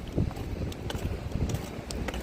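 Gusty wind buffets close against the microphone in uneven low rumbling bursts, with faint ambient noise underneath.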